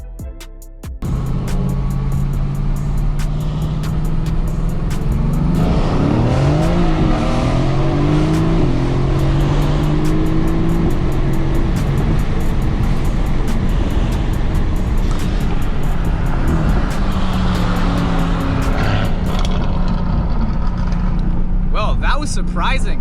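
Two cars, a stock Mercedes-AMG GT S and a Stage 2 Mercedes-AMG C63 S, drag race from a roll, with loud sustained engine roar, rising gear-change sweeps and heavy wind buffeting across most of the run, with people talking over it.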